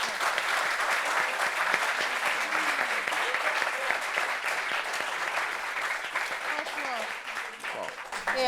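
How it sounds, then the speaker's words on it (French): A meeting audience applauds the pastor, a long steady wash of many hands clapping at moderate loudness, with scattered voices and a few cheers mixed in throughout. "le pasteur mérite qu'on applaudisse pour lui"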